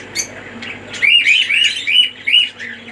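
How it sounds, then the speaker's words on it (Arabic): Australian budgerigars in an assortment of colours chirp in a lively flock, with bright warbling and repeated tweets close by, rising in bursts over a low background hum. "معانا برضو تشكيلة عصافير روزا اللاتيني وازرق واخضر بألوان مميزة"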